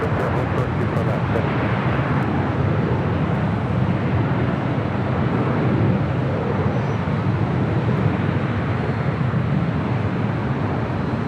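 An airliner rolling down runway 24 Left at LAX on its takeoff run makes a loud, continuous jet roar that holds steady and close throughout.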